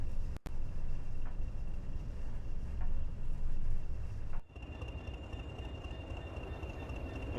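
A Freightliner-liveried train rumbles steadily in Train Sim World 6, a continuous loud low roar with a brief dropout early on and a sudden drop to a quieter, steady running hum midway.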